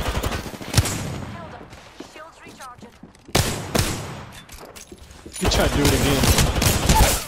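Video game gunfire in a fast-paced shooter, several loud bursts of rapid shots and single cracks close up, mixed with players talking excitedly over the action.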